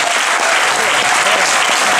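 Loud, dense applause from a theatre audience at a film premiere fills the whole two seconds with continuous clapping.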